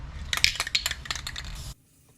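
A nearly empty aerosol spray can sputters in short uneven hissing bursts at close range for under two seconds, then cuts off abruptly into quiet.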